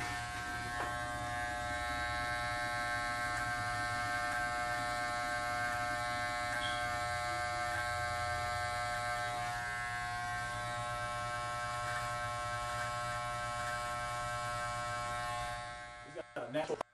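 An electric hair trimmer buzzes steadily and close up while edging up a haircut at a barbershop, a constant whine that continues for the whole stretch before cutting off at the end.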